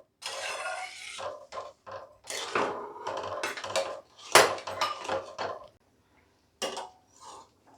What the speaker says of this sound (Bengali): সঙ্গে কাজুগুলোও দিয়ে দিলাম, কিশমিশগুলোও দিয়ে দিলাম। একটুখানি নেড়ে নিই এগুলোকে দিয়ে।